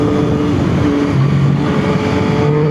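A 2021 Yamaha MT-09 motorcycle's exhaust drones steadily close by, its engine note rising and falling slightly as the throttle is worked, with no speech.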